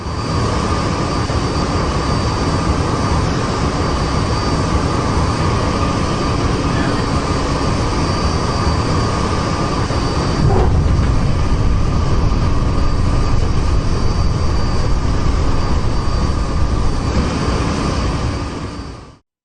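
Steady broad roar of a large airplane on its landing approach, loud and continuous throughout, swelling slightly midway before cutting off at the end; faint voices may sit beneath the engine noise.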